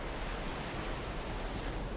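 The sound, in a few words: ocean waves rolling onto a sandy beach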